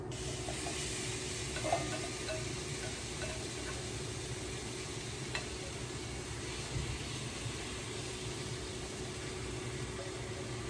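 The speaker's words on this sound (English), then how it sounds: "go ahead and add in your marinated shrimp straight into your pot" Marinated shrimp cook in a pot of dry coconut curry, a continuous soft sizzle and hiss with faint crackles, steady throughout.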